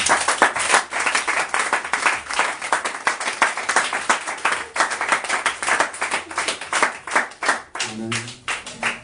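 A church congregation at a Sunday service claps steadily in an irregular burst of applause that runs for several seconds and then fades, with a voice briefly heard near the end.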